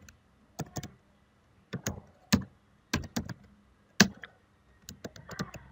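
Computer keyboard being typed on while entering jQuery code, bursts of quick key clicks in short clusters separated by brief pauses, close and clear with no talk.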